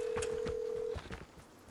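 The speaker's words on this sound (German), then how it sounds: "Ich telefoniere." Telephone dialing in the video game Vigor: a steady dial tone holds for about a second, then short keypad beeps follow in an irregular sequence. The sound is close and clear, with no talk over it.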